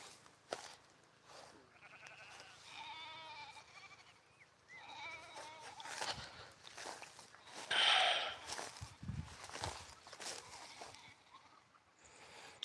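Sheep bleat faintly off and on in a rural village around Kiawala near Nyeri and Nyahururu in Kenya, with footsteps and outdoor ambience.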